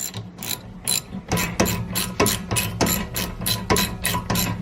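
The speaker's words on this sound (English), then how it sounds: "Now we have a 7mm to get these pins out." A ratchet fitted with a 7mm socket works pins loose, giving close, loud bursts of rapid pawl clicking, about a dozen strokes in a steady back-and-forth rhythm with no talking.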